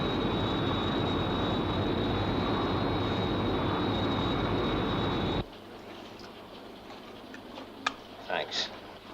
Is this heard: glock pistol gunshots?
no